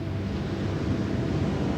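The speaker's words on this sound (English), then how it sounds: "the gentle sound of the waves accompanying him" Gentle ocean waves wash onto a beach at night in a steady, unbroken rush of surf, close and fairly loud with no voices.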